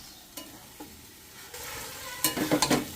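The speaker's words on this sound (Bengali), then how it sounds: "এবার ঘি দিয়ে একটু নাড়াচাড়া করে আমি এবার নামিয়ে দেবো" Cabbage stirred with ghee in a frying pan over a soft, steady sizzle, with a few light scrapes early and a quick run of louder stirring strokes near the end, close by and without speech.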